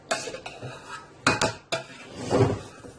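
Biryani gets mixed in a cooking pot: a utensil knocks sharply against the pot a few times, then scrapes and stirs through the rice, close and with no talking.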